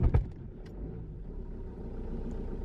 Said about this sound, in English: now that the car is running